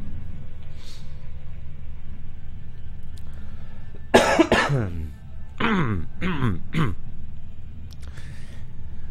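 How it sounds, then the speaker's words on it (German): A man coughs in a loud fit of several harsh bursts, one long hack followed by three shorter coughs, over a low steady background hum. "ich bekomme jetzt ja den Husten so nicht mehr so schnell weg"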